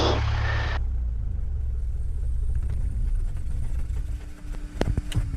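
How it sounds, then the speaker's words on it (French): A light aircraft's piston engine runs loudly, then cuts out abruptly when the mixture is pulled on a grass parking area. It leaves only a low rumble and faint clicks in the quiet cockpit. "Et je coupe la mixture, le moteur va s'arrêter."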